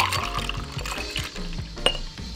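Liquid poured into a mason jar, a splashy, gurgling stream with clinks of glass over a steady low hum, close and continuous for a couple of seconds.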